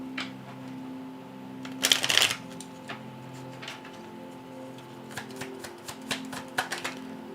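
Tarot cards being shuffled during a reading: a soft, steady riffle under a faint background hum, with a brief louder burst of card flutter near the start and a few light taps and flicks afterward.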